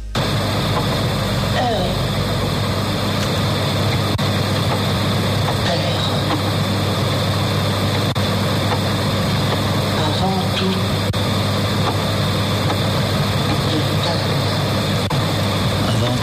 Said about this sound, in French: c'est le moteur du magnétophone